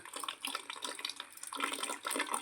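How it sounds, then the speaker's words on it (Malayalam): Water pours from a tank into a can as a continuous splashing, gurgling trickle, close and moderately quiet, with no voices. "ഇതാ വെള്ളം വരുന്നുണ്ട് ക്യാനിലേക്ക്"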